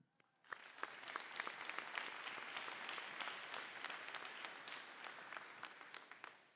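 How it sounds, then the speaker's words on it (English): A graduation ceremony audience applauds its teachers, advisors and coaches, a dense, steady clapping that begins abruptly after a brief quiet moment and holds at an even level, fairly distant, with a few sharper individual claps near the end. "I'd like to start out by giving a round of applause to all of the amazing teachers, advisors, coaches, and mentors that got us here."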